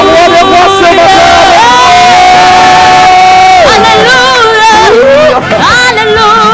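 A church congregation at a Sunday service cheers and acclaims. Many voices shout and cry out together, very loud and sustained, with rising, swelling calls over continuous crowd noise.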